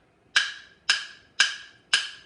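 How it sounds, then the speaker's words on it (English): Wood block struck with a mallet, four crisp hollow knocks evenly spaced in a steady beat, each ringing briefly before fading, heard alone and close up. "It's just called a wood block because that's what it is, a block of wood. You hit it with this mallet and it sounds like this."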